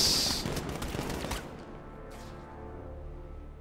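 In Batman: Arkham Knight, a dense volley of gunfire from a group of shooters rattles loudly for about a second and a half, then stops and leaves a low hum.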